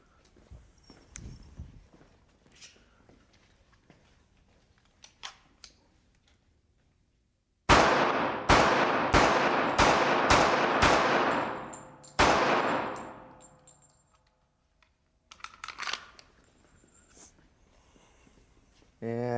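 .45 pistol rounds fired into body armor: about six sharp, loud shots in quick succession, a short pause, then one more, with faint talk and handling noise before and after.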